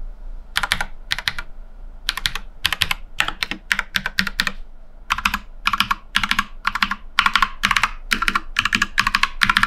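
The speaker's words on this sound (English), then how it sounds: "the sound while typing actually is a bit nicer on the Pro" Brisk typing on a mechanical keyboard, crisp clicky keystrokes in quick bursts with short pauses, close and clear, no voices.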